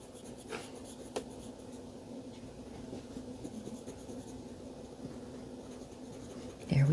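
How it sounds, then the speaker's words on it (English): Faint, steady scratching of a colored pencil shading a pear drawing on paper continues throughout, soft and close, with no talking. "I just turned my pencil."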